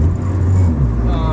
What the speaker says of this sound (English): I'm in third gear right now, taking around some curves.